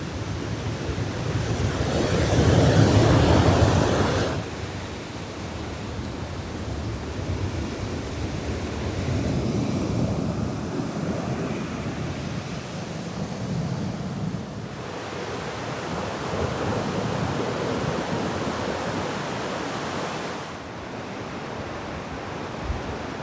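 Ocean surf rolls onto a beach near Forks on the northern Washington coast, a broad, steady roar that swells and eases in long surges, with wind buffeting the microphone.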